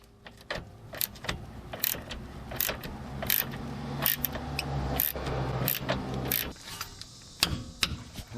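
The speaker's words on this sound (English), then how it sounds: "So next we'll tighten up this bolt here, and this one's going to be 74 foot-pounds plus 75 degrees." Ratchet tightening a control arm bolt on a Buick Lacrosse, with repeated sharp clicking strokes and brief pauses over about eight seconds, close and fairly loud, with faint metallic rattles between pulls.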